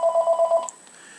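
An electronic phone ring of five quick, evenly spaced pulses sounds in the background of a church setting, then fades into faint room noise.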